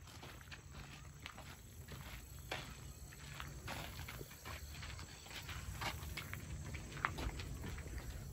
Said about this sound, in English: you see a horse?